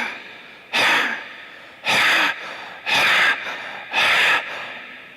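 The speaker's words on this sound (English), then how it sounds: "breathe the same way, inhalation, exhalation as powerfully as possible, but you must get the sound by making a constriction in your throat like this." Four powerful, evenly spaced breaths rasp through a deliberately tightened throat, each a loud hissing rush lasting about half a second, heard close and alone as a breathing exercise.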